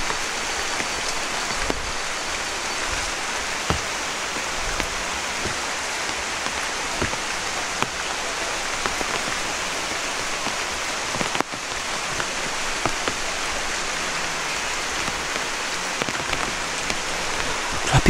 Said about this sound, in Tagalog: Grabe guys, ulan na ulan.